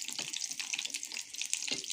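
Water splashes from a tap into a cooking pot of okra in tomato sauce, a brief, close, bright rush of pouring.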